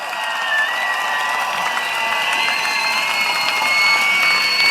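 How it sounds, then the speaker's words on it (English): Rally crowd at Jurong West Stadium in Singapore applauds and cheers steadily, a dense wash of clapping with whistles and shouts, loud and continuous throughout. "Please give them a big round of applause."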